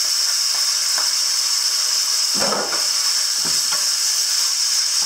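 Beef for Cambodian loc lac sizzles loudly in hot vegetable oil in a pan, a steady bright frying hiss broken by a few scraping stirs of a utensil.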